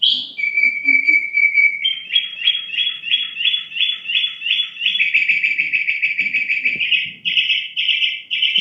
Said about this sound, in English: Mockingbirds are much more melodic,